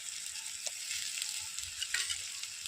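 Ginger paste frying with onion and garlic in oil in a pan gives a steady, close sizzle, with a few brief stirring scrapes and no talk.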